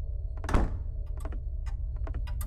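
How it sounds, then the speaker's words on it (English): A door thuds shut in the horror parody game Old Man, one solid close knock followed by softer scattered clicks and taps against a low steady hum. "Wait, you just closed that door."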